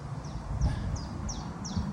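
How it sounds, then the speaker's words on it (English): Birds call outdoors in repeated short chirps, about five spaced calls over a steady background of low rumble, moderately near and clear. "Birds are tweeting."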